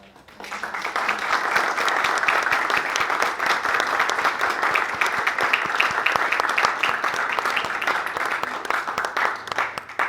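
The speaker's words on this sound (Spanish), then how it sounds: "Les pido un aplauso para" Sustained audience applause at a tribute to Mexican sculptor Ángela Gurría, swelling in after a quiet start and holding as a dense, steady wash of clapping to the end.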